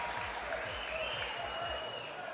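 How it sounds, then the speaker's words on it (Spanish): A crowd at a fighting-game tournament applauds the Street Fighter champion, a thick sustained roar of clapping and cheering, with rhythmic low thumps pulsing underneath. "Ahí está, el aplauso para él."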